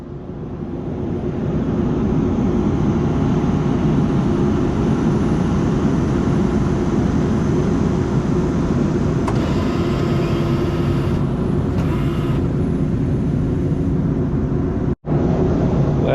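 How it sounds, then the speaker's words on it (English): A giant tow truck's heavy engine runs steadily at night in the woods while freeing a stuck pump truck, a loud, continuous diesel drone with faint higher noise briefly layered in partway through. "Thank goodness we got a tow truck in the middle of the woods out here, and we are making progress as getting it unstuck."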